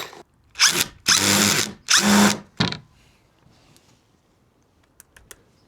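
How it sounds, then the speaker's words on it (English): A power drill drives big screws into a solar panel frame in three loud whirring bursts followed by a shorter one, then quiet clicks of handling. "let's get these screwed together"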